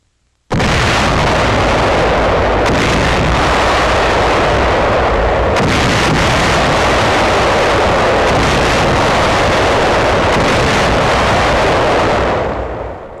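Naval artillery bombarding the Kamaishi shoreline and its iron and steel works, heard on archival film as a sudden, sustained, very loud roar of blasts and rumbling that runs unbroken for over ten seconds before tapering.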